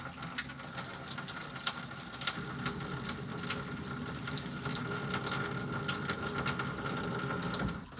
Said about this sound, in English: We've got some pink again, and I want to run enough to make sure it fills up the P-trap on this guy too.